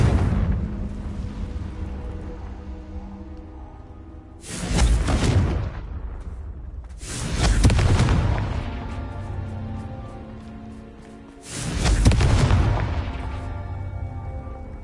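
Three heavy, booming explosions from the Confringo spell in a video game, each a loud blast with a rumbling tail, spaced a few seconds apart over a low background hum.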